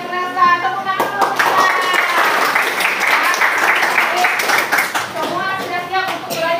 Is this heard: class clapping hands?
yes